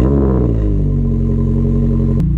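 A tuned Mazda MX-5 with an aftermarket exhaust runs loud and close, its engine note dropping after an opening rev and then settling into a steady, rumbling drone.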